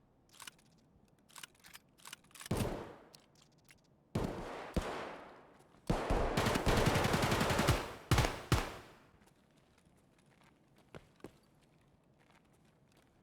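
An FN P90 fires in Escape from Tarkov, with single sharp shots and then a long sustained automatic burst, followed by a few scattered shots and distant clatter, loud and close with quiet gaps between.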